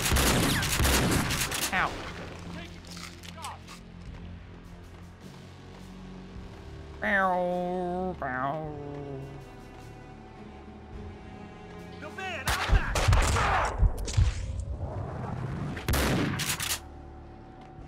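Shotgun blasts ring out in Max Payne 2, a few sharp, loud bursts near the start and again toward the end, with in-game voices and a player's talk in the quieter stretch between.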